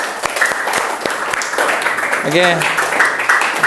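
Scattered applause from a small group in a teaching session, sharp claps spread across a few seconds while a voice speaks briefly over them in Indonesian.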